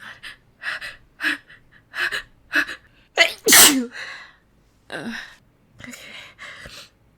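A person sneezes once loudly and close after a series of short gasping, sniffling breaths building up to it, followed by more quick breaths and small sniffs.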